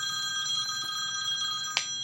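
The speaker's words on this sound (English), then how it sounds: "Phone's ringing. Don't know where it is." A telephone rings steadily in a room where a tabletop centerpiece is being assembled, a continuous bright electronic ring holding level throughout with one short sharper burst near the end.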